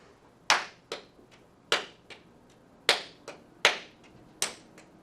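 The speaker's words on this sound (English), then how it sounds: "Listen to the rhythm that I clap and identify it on the board." A teacher clapping a rhythm for a class, seven sharp hand claps in an uneven pattern of longer and shorter gaps, crisp and close in a quiet room with no voices.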